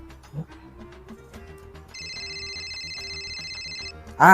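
A steady electronic phone ring starts partway through and holds for about two seconds over a low background murmur, ending with a louder burst.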